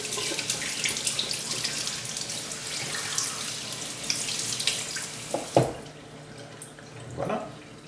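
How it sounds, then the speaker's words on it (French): Cold tap water runs into a sink while a sardine is rinsed, a steady splashing hiss with small drips and bumps near the end as the flow is handled. "On la rince à l'eau fraîche"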